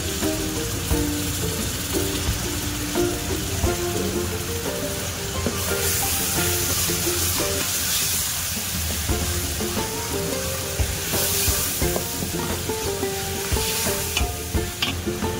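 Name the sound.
tomato added to frying okra, sizzling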